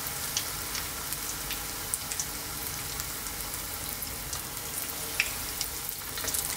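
Chicken balls frying in hot oil give a steady, dense sizzle with scattered crackles and pops, close and continuous, with no talking.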